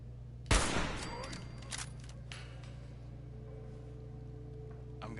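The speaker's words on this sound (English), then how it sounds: "the only thing I can do to take out that legendary is fire the sniper weapon" A sniper weapon fires a single loud, sharp shot in Fallout 4, followed by a decaying echo and a steady low game ambience hum with faint scattered clicks.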